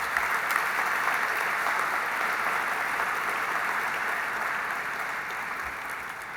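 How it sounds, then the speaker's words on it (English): An audience at an exhibit opening evening claps in a sustained, even round of applause that tapers slightly toward the end, with no voices over it. "Let's give Dr. Michael Berenbaum a big round of applause."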